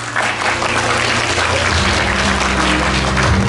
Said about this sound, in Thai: ปรบมือดังๆเลย